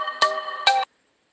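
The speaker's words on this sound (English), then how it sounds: "Every time I go live, my phone starts to ring." A mobile phone's electronic ringtone plays loudly and close, two bright repeating tone bursts in quick succession before it cuts off to silence.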